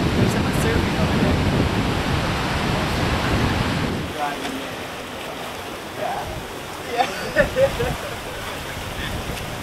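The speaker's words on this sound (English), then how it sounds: "there's some surfing over there" Surf breaking along the shore near Manly on a breezy day, a loud wash of waves and wind buffeting the microphone that drops to a softer, more distant roar midway, with a few brief bumps near the end.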